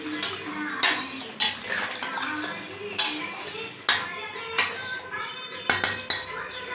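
A spoon stirs a sambar mixture of brinjal, drumstick and raw mango in a cooking pot, giving repeated sharp metallic scrapes and clinks at an irregular rhythm over a soft simmering sizzle, close and fairly loud.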